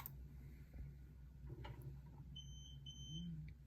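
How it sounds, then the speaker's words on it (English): Two short, faint electronic beeps sound close together over a steady low hum, with a soft click just before them, as a camera switches on and connects to Localite software. "If you just heard that beeping noise, that's indicative that the camera is on and also connected to Localite"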